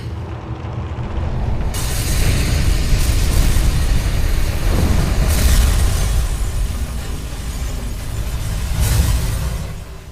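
A big explosion at an old factory in a Hollywood action film dubbed into Hindi, heard as a loud, sustained roaring rumble that swells and surges for ten seconds without any speech.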